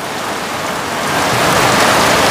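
Heavy rain pours down in a loud, dense, unbroken hiss that swells slightly stronger toward the end, with no voices.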